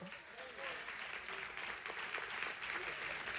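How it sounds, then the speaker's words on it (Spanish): Church congregation applause during a Spanish-language sermon: a faint, steady wash of many hands clapping together, with a few voices heard in the background. "¿Merece un aplauso, sí o no?"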